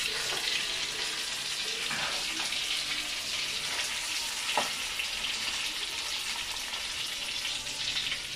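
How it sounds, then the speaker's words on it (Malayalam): Stuffed mussels with masala and snacks fry in hot oil in a home kitchen during Ramadan cooking, giving a steady sizzling hiss with a few brief clinks and pops. "അമ്മ പൊരിക്കാണ്."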